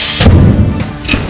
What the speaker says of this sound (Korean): 강한 불꽃을 내며 폭발한 박스.